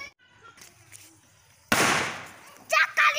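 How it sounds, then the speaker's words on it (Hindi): Diwali firecrackers burst nearby: a sudden loud crack with a long crackling, hissing tail, followed by more sharp pops near the end, after a quiet stretch with faint background sounds. "देखिए साइड में बहुत बड़े बड़े पटाखे फोड़ रहे हैं"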